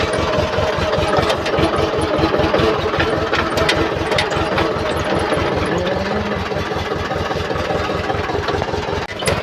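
A Mahindra tractor engine runs steadily close by, a loud, continuous diesel chug with a rapid, even knocking pulse and no pauses throughout.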